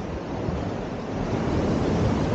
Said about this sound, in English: Wow, we can hear the waves.